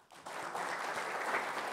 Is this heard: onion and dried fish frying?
no